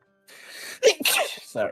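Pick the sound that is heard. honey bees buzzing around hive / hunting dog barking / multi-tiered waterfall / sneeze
sneeze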